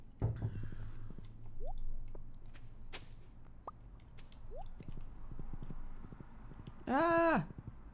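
Hooves clip-clop in a steady walking rhythm for several seconds in a farming video game, joined by soft game chimes and a brief rising musical flourish near the end.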